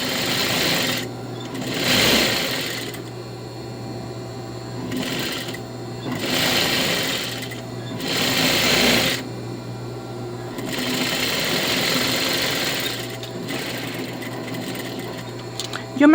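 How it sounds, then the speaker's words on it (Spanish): A sewing machine stitches a seam in fabric for a lined A-line skirt, its steady mechanical whir starting and stopping in several runs with short pauses between. "Entonces ahí cosemos nuestra costurita a 1 centímetro de ancho."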